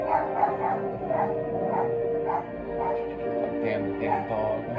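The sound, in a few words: dog barking in Genshin Impact video game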